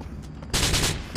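Video game gunfire: after a quiet moment, a loud burst of rapid shots erupts and fades briefly, then another burst begins, close and dense with no voices.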